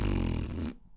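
A voice imitates a fart with a brief, low, buzzing lip-flap that lasts under a second and then stops abruptly, close and fairly loud.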